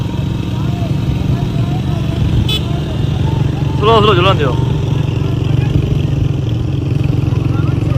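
Motorcycles run along a mountain road during a dangerous marathon race in Thara Dadya, Azad Kashmir, their engines droning loud and steady beneath someone shouting, with a brief horn toot partway through.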